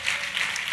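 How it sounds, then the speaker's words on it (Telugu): A church congregation claps in a steady, dense wash that stays even throughout the brief moment, with no voices on top. "చప్పట్లు కొట్టండి"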